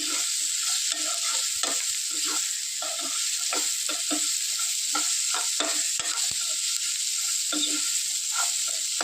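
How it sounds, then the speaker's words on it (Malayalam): Grated carrot being stirred with masala in a hot pan for a Kerala-style carrot mezhukkupuratty, a continuous bright sizzle with repeated spatula scrapes and taps, steady and close, with no talking. "ഇനി മസാലയൊക്കെ ക്യാരറ്റ് പിടിക്കത്തക്ക രീതിയിൽ നന്നായിട്ടൊന്ന് ഇളക്കി യോജിപ്പിക്കുക"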